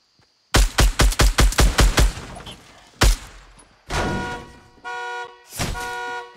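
Fortnite gunfire: a rapid string of about ten loud, evenly spaced shots, then a single shot, followed by sustained buzzing and tonal game effects. No one speaks.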